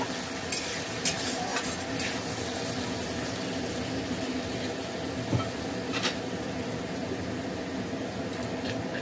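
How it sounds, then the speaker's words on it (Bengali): Tomato, garlic and ginger paste frying in a pan, a steady low sizzle with scraping stir strokes throughout, close and fairly quiet with no talking. "এখন আমি দিয়ে দেবো এই যে টমেটো বাটা আর রসুন আর আদা, এই পেস্টটা দিয়ে দিলাম। এখন এটা একটু ভাজা ভাজা করে নেব।"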